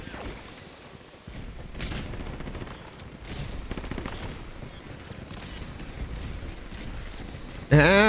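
Rapid video game gunfire crackles in dense bursts throughout, with a sharp louder electronic tone at the very end; a voice talks under the shooting.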